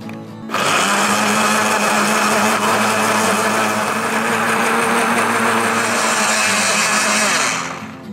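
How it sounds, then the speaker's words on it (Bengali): Electric blender whirring steadily as it blends sapodilla juice with water, a loud continuous motor drone that starts abruptly and winds down at the end. "এখন আমি ব্লেন্ডার মেশিনে এই জুসটি খুব ভালো মতো ব্লেন্ড করে নিচ্ছি"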